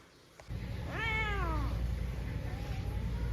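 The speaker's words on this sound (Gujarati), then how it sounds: "અમારે બિલાડા છે ને એટલા બધા લોહી પીવે છે" A house cat gives one clear, rising-then-falling meow close by, followed by a fainter short call, over a steady low hum in a quiet room.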